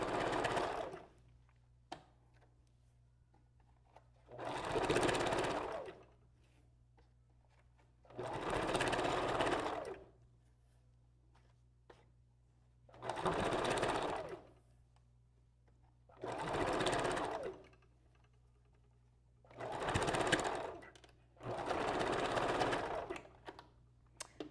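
A sewing machine back-stitches while making a raw Indian wavy wig, running in seven separate bursts of a few seconds each, with quiet pauses between and a low steady hum underneath.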